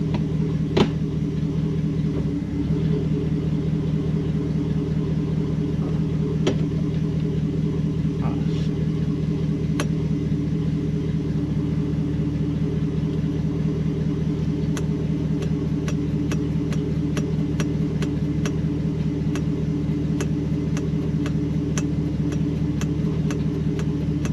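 A Mercedes E420 with a swapped-in manual transmission backs up in reverse gear. Its steady low engine rumble hums throughout, with scattered light ticks and clicks on top.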